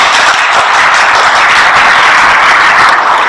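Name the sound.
audience applause for teaching staff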